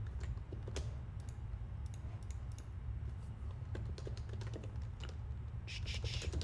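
Rapid typing on a computer keyboard, a steady stream of light close-up key clicks with occasional louder strikes, over a low constant background hum.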